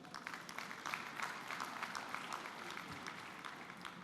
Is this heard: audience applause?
yes